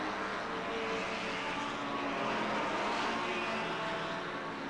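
Racing cars at the 1957 German Grand Prix stream past in a continuous dense engine roar, steady and fairly distant, with no clear gaps between passes.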